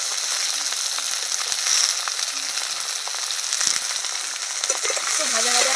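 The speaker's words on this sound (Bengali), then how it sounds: "আলু, গাজর আর সিমটা দিয়ে ভাজা করে নেব" Potatoes, carrots and beans fry in a pan, giving a steady, close sizzle that stays even throughout, with a few light stirring clinks near the end.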